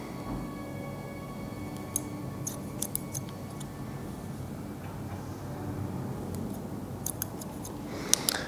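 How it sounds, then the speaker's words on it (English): Barber's scissors snip hair with the scissor-over-comb technique, producing faint, sparse, irregular clicks over a steady low background with no talk. "I work just with some scissors overcomb to start and just pick up the hair."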